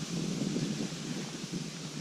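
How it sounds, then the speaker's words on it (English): Continuous low wind rushes outdoors in the woods, a soft steady whoosh with faint rustling and no voices. "Even though it's windy out today."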